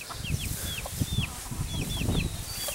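Hens clucking close by in quick, repeated short calls, with scattered bird chirps and a low background murmur outdoors.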